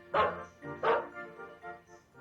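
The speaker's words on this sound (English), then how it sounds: "A dog? I didn't know we had a dog." A dog gives two loud, close barks about a second apart, followed by softer whining yips.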